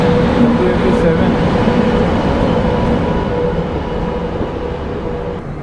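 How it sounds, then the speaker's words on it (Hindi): A passenger train rolls alongside at a station on a night journey from Coimbatore to Mumbai, a loud, steady rumble of wheels and carriages that slowly eases off. "तो ये ट्रेन अपने को ओवरटेक नहीं करी है, अपन लोग ही इनको ओवरटेक कर रहे हैं"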